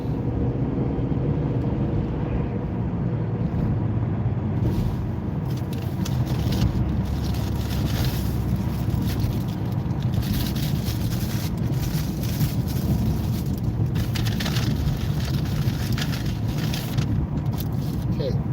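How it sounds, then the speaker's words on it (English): A car engine on the road pulls harder as it accelerates, its low rumble steady under wind buffeting, with someone talking over it throughout. "And now I'm gonna accelerate."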